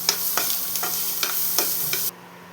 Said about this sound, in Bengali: পেঁয়াজটা অনেকটাই ভাজা হয়ে গেছে।